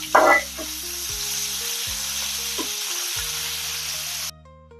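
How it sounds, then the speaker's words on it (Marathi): Ginger and coconut paste sizzles and fries steadily in a hot pan for a festival offering meal, with a loud burst of spattering at the start and a few utensil stirs, then the sizzle cuts off near the end. "आलं आणि खोबऱ्याचं वाटण घातलं."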